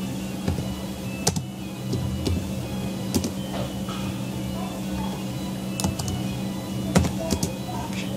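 Scattered keyboard clicks tap irregularly over a steady background hum, with a few sharper keystrokes standing out.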